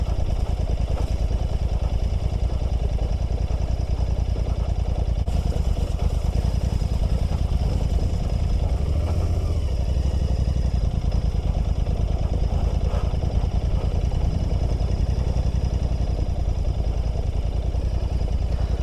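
A motorcycle engine runs in a steady, unbroken drone on a solo ride through snow, with loud continuous wind and road noise and no voices.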